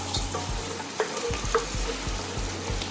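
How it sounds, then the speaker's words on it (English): Vegetables sauteing in a pan for chicken and mushroom soup, a steady close sizzle with scraping stir strokes and soft clicks of a utensil, no voices. "So you just wanna saute this for about 5 minutes or until everything is nice and soft."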